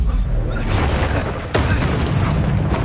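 A Bombarda spell goes off in Hogwarts Legacy combat, a heavy booming burst near the middle amid constant loud battle clatter and rumble, with brief voices mixed in.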